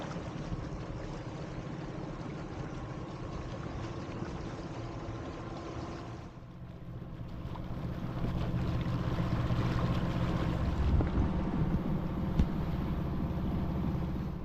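A sailboat's steady low engine drone hums beneath wind noise while motoring in light wind, briefly dipping midway before returning fuller, with no voices.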